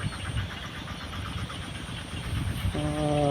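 A tractor engine works a rice field at the start of the planting season, a steady loud mechanical drone with a rough low rumble that rises into a clear humming tone near the end.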